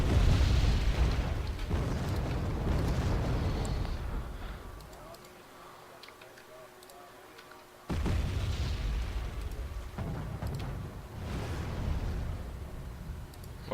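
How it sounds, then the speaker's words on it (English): Artillery shells exploding in the video game Wargame Airland Battle, a series of deep booming blasts with rumbling tails, one dull lull in the middle, set against background battle noise and under talk. "they called in some artillery lads"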